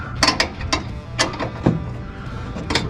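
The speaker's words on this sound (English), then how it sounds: "you've got that little eyelid bolt there, so you got to put a wrench on it" Sharp metallic clicks of a ratcheting wrench tightening the small eyelid bolt on an Air Lift 7500XL suspension kit on a 2022 Chevy 2500HD turbo diesel, several irregular close ticks with brief pauses.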